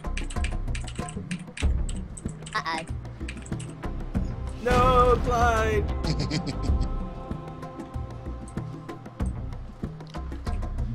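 Rapid, vigorous clatter of computer keys, continuous and close, briefly joined by a voice in the middle.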